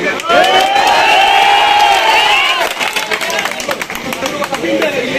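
A crowd at a political rally with an MP claps and cheers in a dense, loud wash that swells early, then thins into scattered claps and shouts, with voices mixed in throughout.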